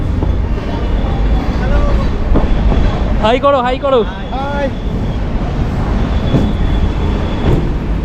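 A Howrah local train runs along the line with a steady, loud rumble and rail clatter throughout. People call out briefly in the middle, over the noise.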